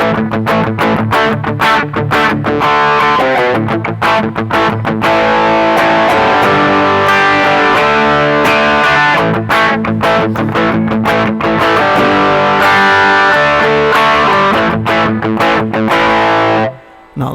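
An electric guitar played through a humbucker pickup and a distortion effect rings out in loud, saturated strummed chords with fast rhythmic chugging, sustained alone for most of the stretch before cutting off.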